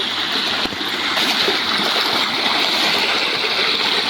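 Steady rushing water flows continuously throughout, a dense broadband wash like a stream or channel, fairly loud and close, with no voices.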